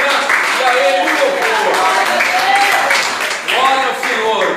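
A church congregation applauds together with joy during an evening service, a dense, steady wash of clapping with scattered voices and cheers mixed through it, fairly loud and sustained throughout.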